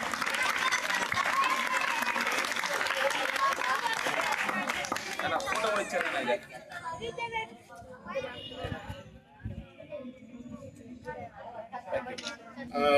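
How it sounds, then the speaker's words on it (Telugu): A group claps loudly for four students for several seconds. The applause then fades out and a voice speaks over scattered remaining noise. "ఒకసారి క్లాప్స్ కొట్టండి నలుగురికి"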